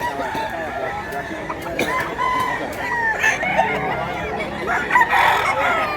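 Wapong chickens crowing and clucking nearby, several birds calling over one another in a busy farmyard, with a few sharp clucks and overlapping crows throughout.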